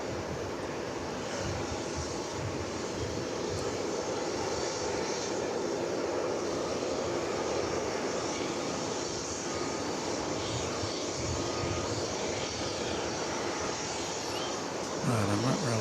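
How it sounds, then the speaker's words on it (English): An American Airlines jet airliner on flight 353 to Puerto Vallarta at DFW Airport gives a sustained, fairly distant engine roar that holds steady for about fifteen seconds. "I believe this is going to be American Flight 353 to Puerto Vallarta."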